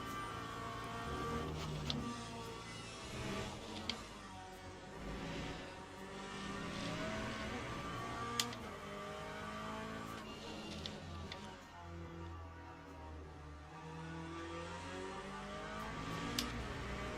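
GT3 race cars lapping Imola in the racing game Le Mans Ultimate, a steady engine drone rising and falling through gear changes with a few brief clicks, continuous and moderately loud with no talk.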